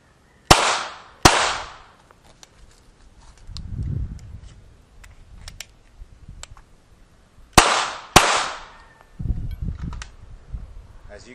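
Gunfire from shooting with a loaded magazine comes as two pairs of sharp, loud shots, with quieter handling noise and a low voice between them.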